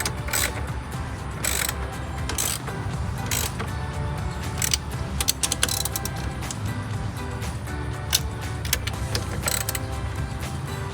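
A ratchet tightens the mounting bolts of aftermarket powered heated towing mirrors on a 2009-2018 RAM 1500, with close, rapid clicking in repeated bursts and light metallic handling noise between them.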